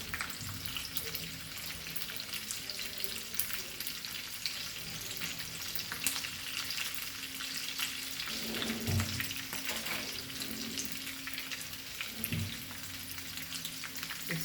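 Bombay duck fish sizzles and crackles steadily in hot oil over a medium-slow flame, a continuous bright frying hiss with occasional soft clunks of the pan.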